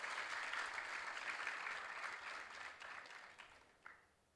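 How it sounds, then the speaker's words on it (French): Audience applause at a women's forum on science and research, a steady wash of many hands clapping that holds fairly even, then gradually thins and fades toward the end, with no talk over it. "Je pense que cela mérite des applaudissements."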